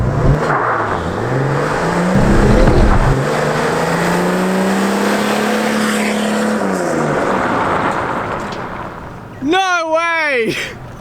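Turbocharged and naturally aspirated Nissan Patrol TD42 diesel 4x4s accelerating side by side in a drag race, a loud sustained engine drone rising steadily in pitch for several seconds, with talk over it and a brief rising whine near the end.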